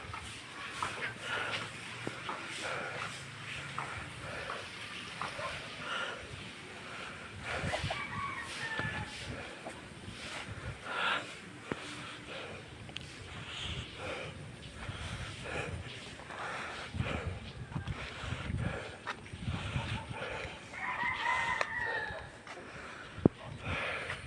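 Fighting roosters at Celso's gamefowl farm crow and cluck in a busy, overlapping chorus, some calls near and others farther off, over steady outdoor background noise.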